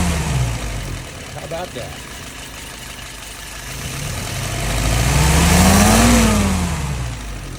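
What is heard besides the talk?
car engine revving with Ford YF carburetor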